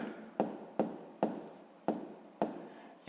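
Pen strokes on paper while working out a 6th-grade math subtraction exercise, six sharp scratchy taps in a steady rhythm, each followed by a short fading stroke, close and alone with no talk.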